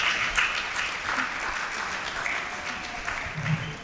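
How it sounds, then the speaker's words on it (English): An audience at a women's business empowerment summit claps for a speaker in another round of applause. Sustained, even clapping runs for several seconds with scattered louder claps and no talking. "Can we give her another round of applause?"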